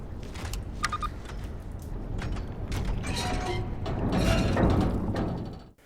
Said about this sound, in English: There's a sound that is cued anytime you're able to manipulate the environment